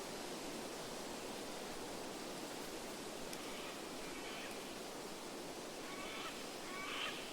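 A flowing brook in the video game Roadwarden rushes steadily and evenly throughout, a continuous wash of water noise, with a few faint bird-like calls near the end.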